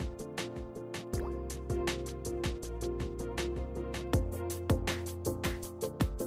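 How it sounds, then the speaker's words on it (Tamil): Thick cement slurry mixed with water being poured onto a roof during insulation tile work: a busy stream of wet drips and splats, fairly close, repeating rapidly and unevenly throughout. "அதன் மேல் நீருடன் கலந்த அடர்த்தியான சிமெண்ட் பாலை காரை காய்வதற்குள் ஊற்ற வேண்டும்."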